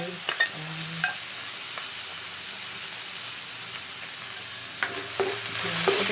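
Onion sautés in a pan for sinigang na bangus, a soft steady sizzle broken by a few sharp utensil clinks and stirring scrapes, growing slightly louder toward the end, with no one speaking.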